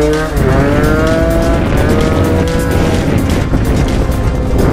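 Gilera scooter fitted with a Stage6 70cc kit ridden under throttle: a loud, close, high-pitched two-stroke engine whine that climbs and holds steady for the whole clip, with no talking.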